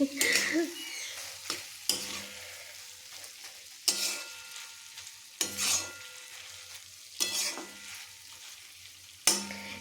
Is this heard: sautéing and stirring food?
yes